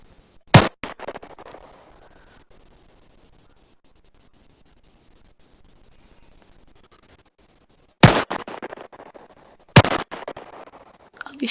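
Gunfire in the video game Arma III: three sharp, isolated shots spaced several seconds apart, each with a short decaying tail, over a faint hiss and otherwise quiet background.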